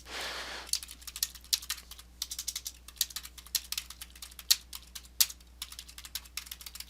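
Typing on a computer keyboard sounds close and fairly quiet, with quick irregular key clicks that run steadily throughout over a low background hum.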